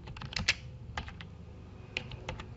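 Fingers type on a computer keyboard, with crisp, close key clicks arriving in short irregular bursts and small gaps in a quiet room, with no speech.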